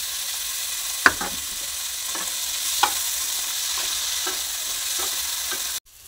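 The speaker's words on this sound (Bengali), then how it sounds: "গাজর, বিনস আর ফুলকপি একসাথে তিনটে সবজি ভালো করে ভেজে নেব।" Carrot, beans and cauliflower fry together in a pan, a steady close sizzle broken by several scraping stirs, with a sharp clatter near the start before the sound cuts off at the end.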